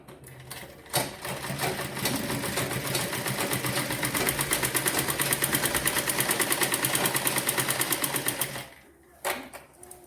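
A sewing machine stitches a heavy Punjabi Patiala salwar, running in one steady, close, rapid burst of about eight seconds between short pauses and handling sounds.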